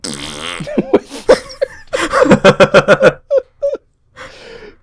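A voice imitates a wet fart with a run of sputtering, buzzing vocal bursts in quick rhythmic pulses, ending with a couple of short blurts and a breathy trail.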